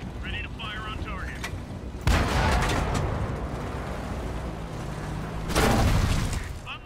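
An artillery round strikes and bounces off a Centurion Mk. I tank in World of Tanks, making a sudden heavy boom with a long rumbling tail, followed by a second loud blast a few seconds later.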